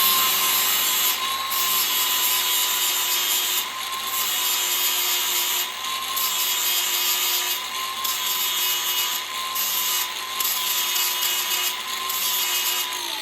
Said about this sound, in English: I'm going to have to grind it flat again because now I'm walking